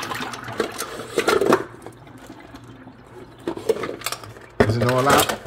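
Water is poured off a pot of boiled eggs into a sink in bursts of splashing, sloshing and metallic clatter, loud and close, with a person talking in between.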